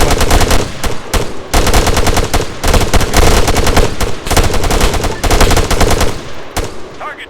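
Loud, dense bursts of automatic weapon fire in the Arma 3 military shooter game, rapid rattling volleys with brief gaps, close and continuous throughout.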